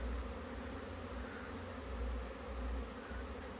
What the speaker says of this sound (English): The swarm has arrived